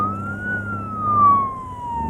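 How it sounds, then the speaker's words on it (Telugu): A police van or ambulance siren wails in one long, steady, slowly gliding tone, loud and close, with a low traffic rumble beneath it. "అది పోలీస్ వ్యాన్ కదరా, అంబులెన్స్."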